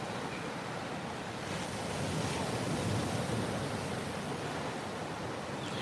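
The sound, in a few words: ocean waves at a beach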